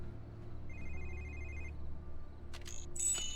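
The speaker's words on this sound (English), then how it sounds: "Cell phone somewhere." A cell phone rings somewhere in a level of the 007 Quantum of Solace video game on Xbox 360, a brief, faint electronic trill over a low droning ambience.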